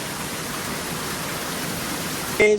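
Water rushing at full pressure near Pangoli village during a landslide: a steady, dense broadband roar close by, with a brief louder surge at the very end.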